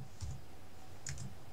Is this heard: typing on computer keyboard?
yes